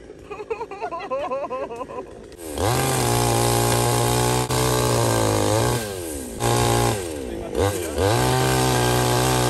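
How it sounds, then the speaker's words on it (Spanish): Motorcycle engine revving loudly and close, with sustained high-revving drone and several sharp throttle blips rising and falling, after a few seconds of people talking and laughing. "¡Cuidado con la moto, weón!"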